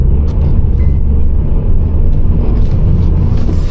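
Honda Civic engine rumbling steadily up close as the car slides around in a drift, a dense continuous low drone with no talking.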